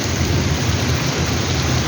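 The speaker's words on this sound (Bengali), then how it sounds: "প্রচুর বৃষ্টি হইতেছে, অনেক বাতাস।" Heavy rain pouring down in a dense, constant roar, with wind rushing through it and no voices.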